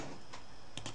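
A few light keystrokes on a computer keyboard tap out quietly and sparsely, with short separated clicks over a faint background hum.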